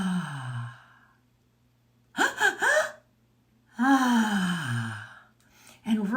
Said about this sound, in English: 3 deep, quick inhales in,